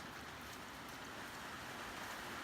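Steady rain falls outside a barn, a faint, even hiss of drops on surfaces continuing without break.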